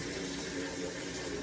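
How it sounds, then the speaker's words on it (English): Cold water runs from a kitchen tap into a cooking pot in a steady, close rushing stream, filling without pause for the brief moment. "I'm gonna fill this pot up with cold water."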